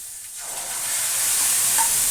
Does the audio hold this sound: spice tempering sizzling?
yes